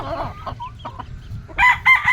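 Game fowl rooster clucking close by, then letting out a short, loud crow at the end.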